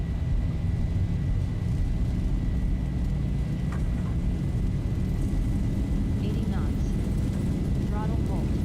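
Jet engines spooling up to takeoff thrust in a Zibo mod Boeing 737 flight simulator, a steady loud broadband roar with low rumble, holding constant throughout as the aircraft rolls for departure from Memphis.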